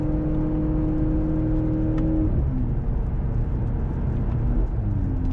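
A 2024 Mercedes-AMG C63 S with a 2-liter engine, heard from inside the cabin during a test drive, holds a loud, steady drone under acceleration without shifting up, with its tone shifting midway and no talk over it.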